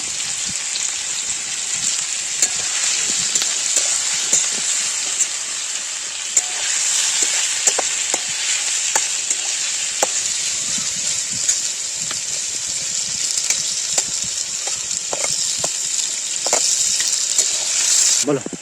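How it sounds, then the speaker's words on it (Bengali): Onions frying in a pan over a wood fire, a steady loud sizzle with crackling spits and occasional stirring scrapes, close and continuous, with no talking. "পেঁয়াজ খাস খাস লাল হয়ে গেছে"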